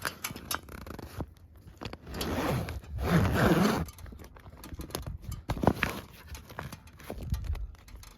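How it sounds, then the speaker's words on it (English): A zipper on a camping tent's cover is pulled open in several long rasping runs with short tugs and rustling of fabric in between, close up and with no voices. "Just unzip that thing."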